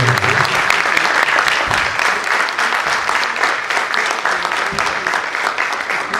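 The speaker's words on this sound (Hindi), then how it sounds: "इसके लिए तो जोरदार तालियां" Loud, dense applause from an audience at a stage event where children have performed, sustained steadily for about six seconds with no break.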